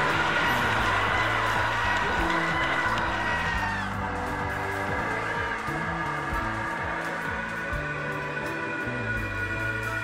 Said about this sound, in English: Every single sound effect all at once.